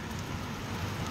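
Steady rain falling in Palampur, a continuous soft hiss of drops on surfaces with no gaps, fairly close and even in level throughout, with no voices.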